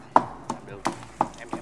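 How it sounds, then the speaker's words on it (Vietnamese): A knife chops a bell pepper on a cutting board in five crisp, close knocks spaced roughly a third of a second apart, with no talking. "Chặt đôi quả ớt chuông"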